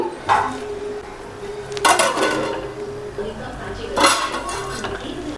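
Salt is stirred into a pot of vegetable biryani and a lid goes on, with light utensil scraping and two loud metallic clangs a couple of seconds apart against a faint background murmur.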